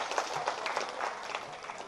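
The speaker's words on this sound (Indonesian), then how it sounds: "Berikan aplaus yang sangat meriah untuk Ketua." An audience applauds for the chairman of Karang Taruna in Banyuasin, a steady patter of many clapping hands at moderate distance, lively but not loud.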